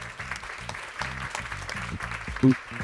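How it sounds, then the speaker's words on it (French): Audience applause at a green retail pitch event, steady clapping from a crowd with a murmur of voices and a short bump of louder noise near the end. "On peut l'applaudir, Setia."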